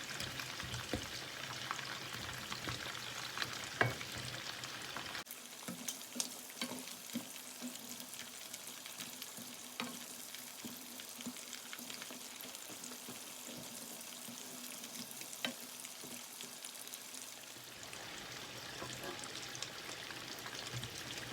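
Shrimp wrapped in lattice-net spring roll pastry deep-frying in hot oil, a dense, steady crackling sizzle that runs the whole time, with occasional louder pops and stirring scrapes and no voices.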